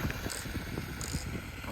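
HBX Transit RC dune buggy with its original-sized motor running flat out in first gear, a steady mechanical whir with a faint high whine and rattling, close and continuous.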